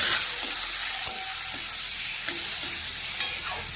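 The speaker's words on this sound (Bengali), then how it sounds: "পেঁয়াজ, রসুন আর কাঁচা লঙ্কা খুব সুন্দরভাবেই ভেজে নিয়েছি। দিয়ে দিচ্ছি ছোট ছোট করে কেটে রাখা টমেটো।" Chopped tomato hits hot oil with fried onion, garlic and green chili, giving a loud, close, steady sizzle with a few scraping stirs of a spoon over it.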